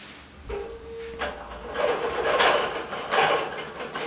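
A digital quilting machine starts stitching after the bobbin thread is pulled up, a short high motor whine followed by steady mechanical humming and rhythmic buzzing pulses, close and fairly loud.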